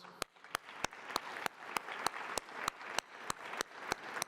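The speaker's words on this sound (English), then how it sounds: "A round of applause." Audience applause at an award event honouring frontline workers, a continuous bed of clapping punctuated by sharp, evenly spaced loud claps roughly every third of a second, as if one person claps near the microphone.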